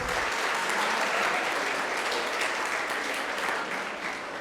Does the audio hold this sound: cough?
no